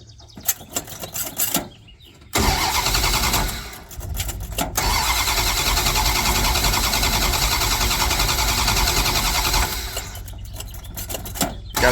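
A 1975 Dodge Dart Swinger with a Thermoquad carburetor cranks in short bursts, then catches and settles into a loud, steady idle up close before a brief quieter stretch near the end.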